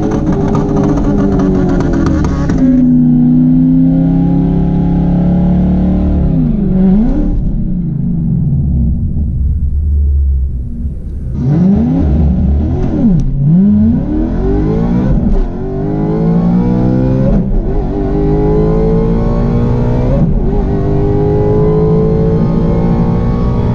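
Drag racing car with its two-step launch control set very low and tires aired down, engine loud and close throughout, a steady stuttering rumble that drops away briefly, then revs and surges hard again in repeated climbing pulls.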